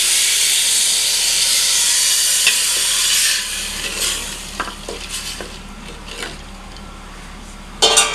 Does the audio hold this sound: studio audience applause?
no